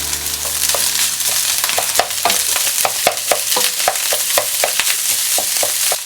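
Rice is stir-fried over high heat in a hot pan for sansen chahan, a Chinese-style fried rice with seafood. A loud, dense sizzle runs throughout, punctuated by quick, rhythmic clacks of the utensil tossing the rice.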